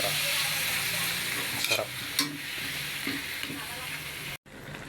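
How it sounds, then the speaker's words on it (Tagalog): Chicken sautéing in a frying pan for chicken afritada, a steady loud sizzle with stirring scrapes throughout, a brief word spoken over it and a short cut near the end. "Igisa muna natin para"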